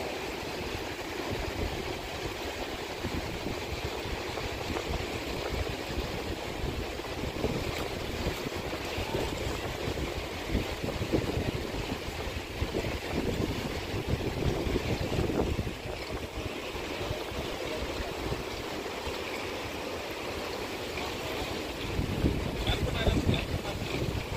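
Fishing boat pulling in to a jetty at the start of the fishing season, its low engine rumble steady throughout and mixed with wind buffeting and lapping water, with faint voices in the background.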